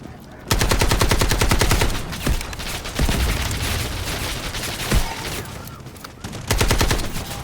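Rapid automatic gunfire in the shooter Delta Force, with loud sustained bursts from an AKM rifle, several separate volleys with short gaps between them, plus a few single louder shots.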